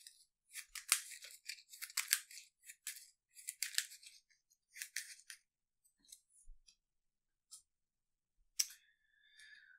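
Cards from an Arkham Horror card-game encounter deck being shuffled by hand, a series of quick papery riffles and snaps in short bursts separated by brief pauses, close and fairly quiet.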